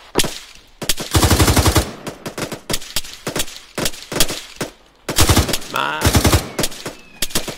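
Arma 3 machine gun fire in bursts, loud close rattling volleys separated by short gaps and single shots, a long burst near the start and another near the end, with brief radio-style voices between.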